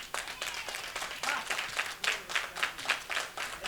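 A live audience claps at a comedy show, with individual hands audible in a loose, uneven rhythm that swells in waves and then thins out. The clapping sounds moderately close and stands alone, with no voices over it.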